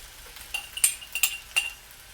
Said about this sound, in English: You're going to want to hear that nice sizzle to make sure that your rice is getting all hot